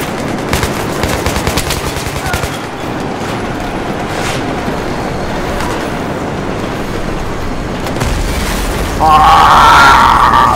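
Dense gunfire in Battlefield 3 with rapid machine-gun bursts and booms throughout, ending in a louder, sustained rattle of shots.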